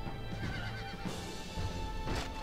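Horses whinny amid a busy, steady real-time strategy game soundscape in Rise of Nations Extended Edition, with a couple of neighs standing out over the background.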